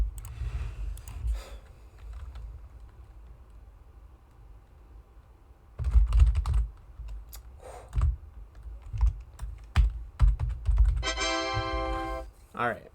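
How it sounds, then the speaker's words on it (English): Rapid bursts of computer keyboard typing, clattering keystrokes in uneven runs during a timed typing game, close and fairly loud, with a voice talking between bursts and a short electronic chime near the end. "Clock starts when you begin typing Ed Balls."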